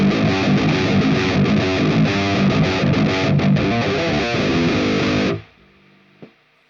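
A thick, heavily distorted guitar amp tone from the ML Sound Labs Amped VST plugin rings out loud and steady, then cuts off abruptly, leaving near silence with one small knock.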